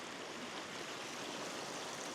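A mountain stream in the Bighorn Mountains, Wyoming, flowing over rocks on the way up Cloud Peak, a steady close rushing wash with no voices.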